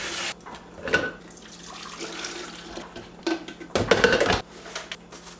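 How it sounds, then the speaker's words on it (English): Water running from a kitchen tap into a container, a steady hiss with louder gushing bursts and a few clinks, heard alone at close range. "we got our water filled"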